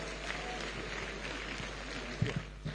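Audience applause at a Lagos State University convocation ceremony, a moderate, continuous patter of clapping from a large hall with a few louder thumps near the end.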